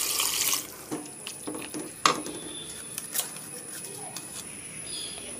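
Cooked dal water poured from a vessel into a pan of ridge gourd kootu: a brief splashing rush at the start, then a few scattered drips and small knocks, fairly close, with no talk.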